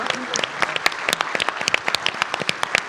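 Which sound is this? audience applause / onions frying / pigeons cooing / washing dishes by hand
audience applause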